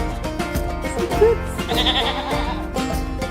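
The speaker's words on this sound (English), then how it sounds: "Goats be goating out here." Goats bleat outdoors on a farm, several overlapping calls rising over a steady low rumble of background noise and other farmyard sounds, fairly close and loud.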